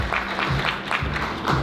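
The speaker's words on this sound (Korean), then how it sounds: "큰 박수로 맞아주시기 바랍니다." Conference audience applause welcoming an AWS solutions architect to the stage at a cloud technology event in Seoul, a brief burst of many hands clapping, fairly loud and a little distant, without speech.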